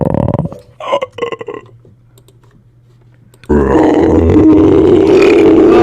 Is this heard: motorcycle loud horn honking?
no